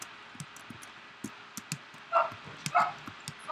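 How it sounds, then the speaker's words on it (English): Household dogs barking from another room during a gaming session, a string of scattered yips and short barks, moderately distant, with a few louder whimpering barks toward the end and no speech. "Oh my god, my dogs are barking."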